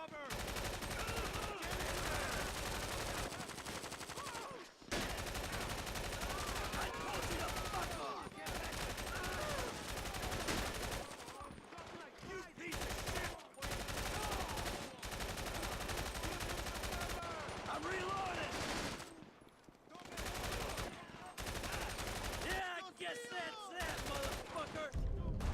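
Gunfire from a vintage pistol and other weapons in GTA V crackles almost nonstop in rapid, dense volleys, loud and chaotic, with occasional talk mixed in.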